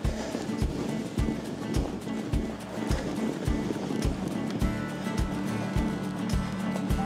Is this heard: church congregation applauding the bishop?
no